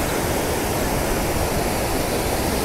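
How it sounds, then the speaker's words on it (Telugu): Floodwater rushing strongly across a road between P. Sadlapalli and Pulamathi near Hindupur, a dense, continuous, loud roar of flowing water with no talk. "ఇప్పుడిప్పుడే ఇంకా కొంచెం వాటర్ ఫ్లో ఎక్కువైందండి"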